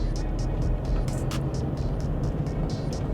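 Interior of a car driving on a city road, with a steady low engine and road rumble throughout and faint ticking clicks above it, no voices.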